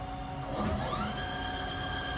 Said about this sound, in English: now we'll do a spindle test